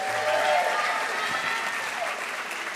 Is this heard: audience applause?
yes